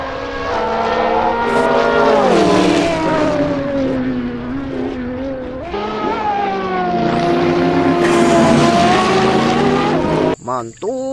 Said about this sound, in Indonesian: Wow, ini mobil balap.